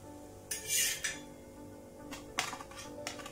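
Fried dhapate, onion and coriander flatbread, lifted off the pan onto a plate, with a few clinks and scrapes of metal utensils against cookware over a steady low kitchen hum, no talking.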